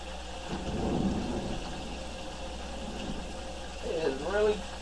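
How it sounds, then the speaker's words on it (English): Thunder rumbling outdoors during a storm, heard faintly from indoors in a home kitchen as a low continuous roll that swells and fades, with a voice speaking near its end. "It is really thundering outside"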